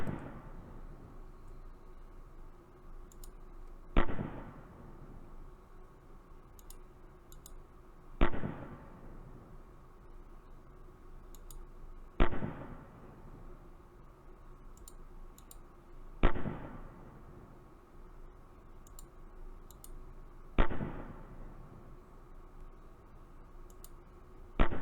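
An animated M240B machine gun firing at slowed speed, six evenly spaced booming shots roughly four seconds apart, each a sharp attack fading into a long decay, with faint mechanical clicks between them.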